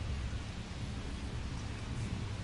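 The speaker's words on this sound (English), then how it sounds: "This rain is not letting up." Steady rain pours during a baseball game, a dense, unbroken hiss that fills the whole stretch evenly with no talking over it.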